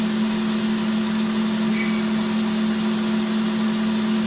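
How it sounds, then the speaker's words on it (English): A lathe spindle hums steadily and close during parting off, a constant mechanical drone with no other sound. "So we set off the machine spindle."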